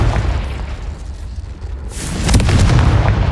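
A heavy blasting-spell explosion in a Harry Potter video game: a low rumble builds, then a loud, bright burst erupts partway through and rolls on with crackling debris. There is no voice.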